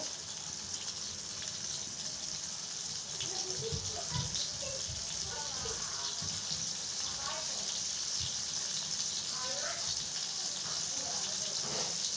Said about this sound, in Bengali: তো মাছটা এখন ভাজতে থাকবো। পুরো মাছটা সুন্দরভাবে ভেজে নেব।